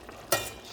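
Hotdogs hit a frying pan with a sudden, brief burst of sizzling that rises sharply, then settles into a softer hiss before a small clatter at the end.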